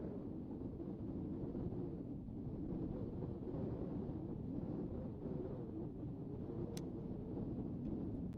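Strong wind gusts of 30 to 40 mph sweep a golf course during a final round, a dense continuous low roar buffeting the microphone, with no voices.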